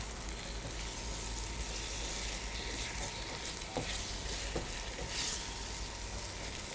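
Seasoned rice for dabu shinkafa sizzles steadily as it fries in a pan, with a few sharp scrapes and knocks of a stirring utensil breaking through the continuous crackle, no voices present.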